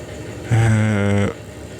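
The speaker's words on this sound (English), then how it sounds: "Oh, the engine sounds a bit rough, doesn't it?" A rough-running locomotive engine in the Derail Valley train game, a short steady mechanical drone lasting under a second, close and fairly loud with a harmonic hum, then cutting off.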